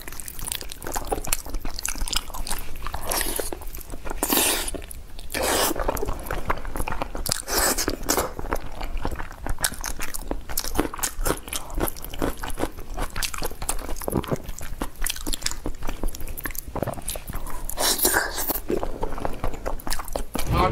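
Close, steady crunching, biting and wet chewing of braised pork knuckle, continuous for about twenty seconds with occasional louder bites and no talk.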